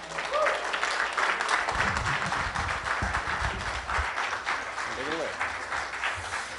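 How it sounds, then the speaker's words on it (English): An audience at the 2019 JFK Assassination Conference in Dallas, Texas, applauds to welcome a speaker, moderately loud clapping that carries on steadily with low rumbling noise and brief murmurs mixed in. "Ladies and gentlemen, if you would please help me welcome with a warm round of applause Ryan Jones"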